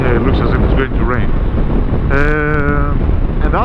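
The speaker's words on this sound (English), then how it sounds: "I hope you can hear me because it's very windy today." Strong wind buffets an outdoor microphone in a steady, loud roar throughout, with a person talking over it on a blustery day before rain.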